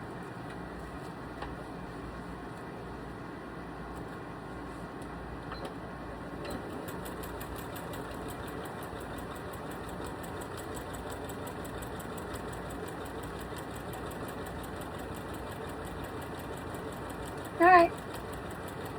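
A sewing machine runs in a steady, low mechanical whir, quiet and continuous throughout, with one brief louder burst near the end.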